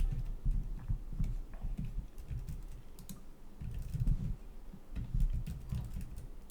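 Quiet, steady typing on a computer keyboard with an unreliable battery, a continuous patter of soft key clicks alone for several seconds.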